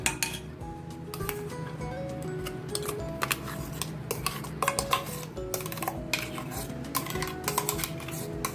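A spoon clinks and scrapes against a bowl while crushed mango is stirred into curd for mango halwa, giving irregular close taps and scraping with no talk.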